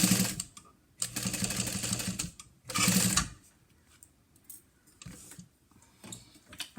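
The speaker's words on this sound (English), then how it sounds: "So now we're going to sew this with 1/4 inch seam allowance." A sewing machine stitches a 1/4 inch seam on a small fabric cash card wallet in two short bursts of rapid mechanical chatter, close and moderately loud, separated by quiet pauses with faint handling clicks.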